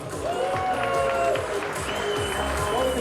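An audience claps for contest finalists in a steady, moderate round of applause, with voices speaking over it.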